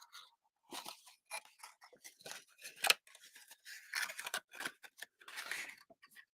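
Scissors snipping through paper while cutting out a box flap: a quick series of crisp, close cuts in short irregular bursts with quiet gaps between.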